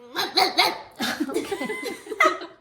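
A Yorkie gives a quick burst of small, sharp barks up close, then keeps up a series of yappy, uneven barks, with a person's laughter and voice mixed in.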